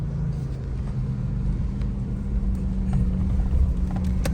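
A desert safari vehicle drives over sand dunes in Qatar, its engine giving a steady low rumble throughout with faint rattles, heard alone without talk.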